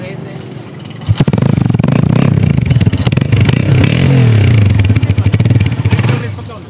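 A used 2019 Honda 125 motorcycle in good condition starts up and runs close by, a loud putter with rising revs, and someone talks over it.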